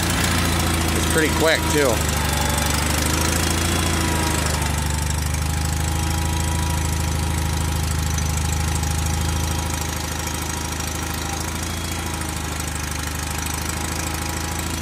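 A DIY mini front loader's small engine runs at a steady idle close by, a constant low knocking drone with a brief squealing rise early on, while a person speaks over it.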